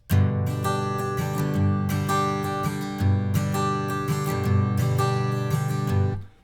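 Steady acoustic guitar strumming with ringing chords, the attack shifting in brightness from passage to passage, played close with no voices.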